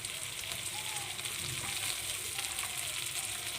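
Okra frying in a pan gives a steady, close hiss and sizzle of oil that runs the whole time, with no talk over it.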